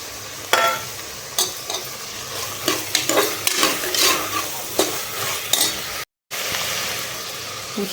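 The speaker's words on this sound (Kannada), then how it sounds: "ಕೊತ್ತಂಬರಿ ಸೊಪ್ಪು ಹಾಕ್ಕೊಂಡೇನು ಚೆನ್ನಾಗಿ ಮಿಕ್ಸ್ ಮಾಡ್ಕೊಳ್ಳೋಣ" Coriander leaves and coconut stirred in a sizzling pan while cooking kuska rice, with repeated scraping spoon strokes over a steady fry hiss and a brief cut-out near the end.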